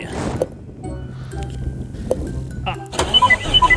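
Tractor TG.160 mod in Truck Simulator Ultimate cranking and starting up, a loud close engine turnover followed by a steady idle and a burst of higher revving, heard alone without speech.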